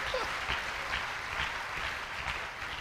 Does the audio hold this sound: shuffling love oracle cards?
no